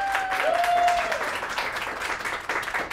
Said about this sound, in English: Applause if you think his is the best.